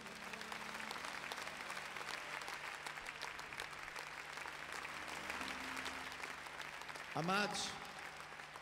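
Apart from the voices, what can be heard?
audience applause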